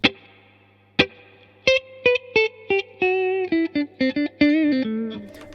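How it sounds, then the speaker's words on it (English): A Telecaster electric guitar played through a Vox AC30 amp with its small built-in spring reverb tank, clear single notes and short phrases ringing with a splashy reverb tail, played alone without talking. "Here I am then with the Vox AC30 with my Telecaster."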